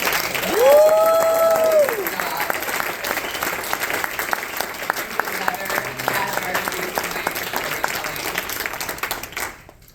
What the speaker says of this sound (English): let's get a hand of applause for every single storyteller